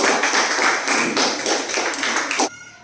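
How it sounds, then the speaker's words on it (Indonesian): Students in a classroom clap together for a fellow student group, a short burst of close, dense hand claps that stops abruptly. "Tepuk tangan untuk kelompok gardu"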